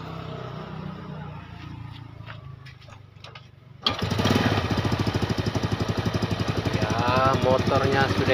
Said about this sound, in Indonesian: Motornya sudah hidup